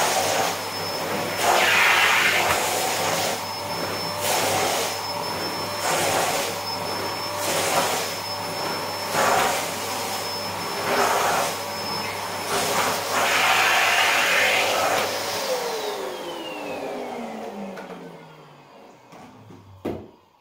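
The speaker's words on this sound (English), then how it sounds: "So let's vacuum a bit." A Nilfisk GS90 vacuum cleaner runs with its nozzle pushed across a rug, giving a loud steady whine with rhythmic swishes from the nozzle strokes, then winding down in falling pitch as the motor is switched off.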